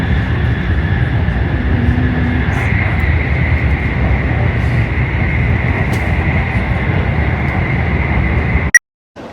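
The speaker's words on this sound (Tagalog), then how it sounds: "Kasi ito na yung next train." A train pulls into a station in Japan with a loud, steady rumble and hum that fills the scene, then cuts off abruptly near the end.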